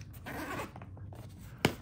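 A zipper on a pocket of an Ogio Silencer golf bag is pulled open with a close, quiet rasping run, then a sharp, brief zip near the end.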